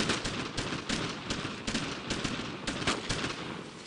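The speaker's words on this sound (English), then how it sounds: "Covering fire! Let's keep up the fire!" Dense gunfire from the World War II shooter Brothers In Arms: Road To Hill 30, with rapid overlapping rifle and machine-gun shots cracking loudly and continuously in an intense firefight.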